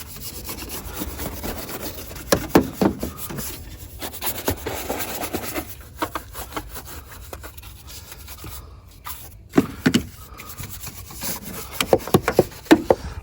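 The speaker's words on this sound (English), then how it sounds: "Now we can go ahead and scrub." Brush scrubbing a car engine bay wet with cleaner, quick scratchy strokes in uneven bursts at close range, some louder clusters of scrubbing toward the end, no talking.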